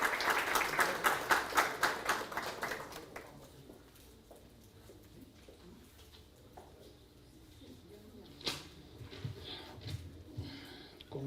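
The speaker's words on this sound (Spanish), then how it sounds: "recibimos con un fuerte aplauso" An audience at a constitutional law event applauds to welcome the dean, with dense clapping for about three seconds that then fades to scattered claps and room murmur.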